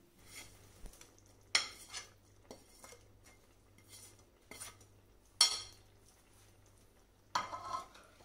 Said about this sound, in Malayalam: ഇതിലേക്ക് നമുക്ക് പൊടിച്ചു വെച്ച ശർക്കര ഇട്ട് മിക്സ് ചെയ്യാം